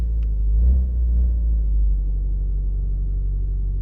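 A neglected Ford Focus engine runs steadily while warming up, a loud, continuous low idle rumble close by with a slight swell early on and no voices.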